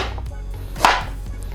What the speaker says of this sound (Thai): ผมก็จะหั่นนะครับให้มันเป็นลักษณะอย่าง นี้นะครับคุณผู้ชม